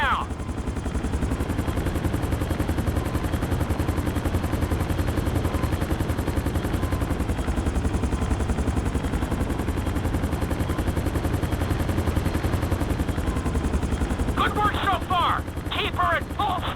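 A helicopter's rotor in Grand Theft Auto V thrums steadily and loudly throughout, with a sharp burst of gunfire-like clatter near the end.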